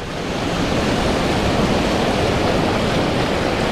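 Steady, rushing surf washing over a beach, a broad continuous hiss of water with no voices.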